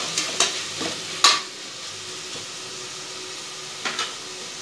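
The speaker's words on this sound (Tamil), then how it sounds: "நல்லா ஒரு 5 நிமிஷம் வதக்கணும் எறாவை." Prawns sauté in hot oil for a prawn biryani, a steady soft sizzle underneath scattered sharp clinks and scrapes of stirring, close by, with no talking.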